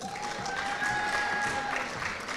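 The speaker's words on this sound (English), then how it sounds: "Let's give them another round of applause for providing service in our community." Audience applause at a 2014 high school senior honors convocation, a steady, dense wash of clapping from a crowd in a hall, with a faint sustained tone running through it.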